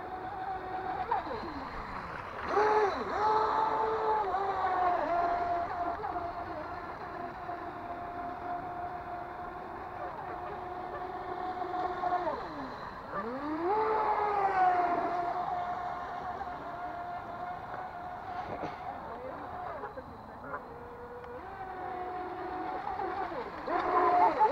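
Electric motor and propeller of an FT011 RC plane with a 35mm TFL 1.4 pitch prop at full throttle, a steady whining drone that rises and falls in pitch as it passes, heard from moderate distance with no talk.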